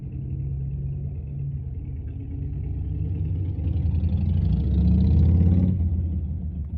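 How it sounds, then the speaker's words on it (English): A motorbike engine rumbles nearby, swelling louder as it passes close, then beginning to fade; a steady low drone throughout with no talking. "I'm gonna wait till this bike drive off because it's kind of loud right now."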